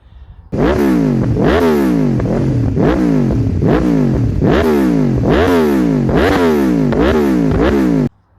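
An Aprilia RSV4 1000cc motorcycle engine revs hard and close, rising and falling in about a dozen quick, regular blips, loud and alone with no talk.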